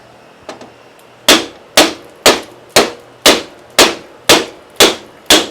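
A brass hammer strikes a John Deere 120 sector gear part in nine sharp metallic blows, each with a short ringing decay, coming at a steady rhythm after two faint light taps.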